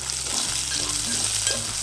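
Medium-cut onions fry in a pan for veg manchurian, giving a steady, fairly loud sizzle with no talking.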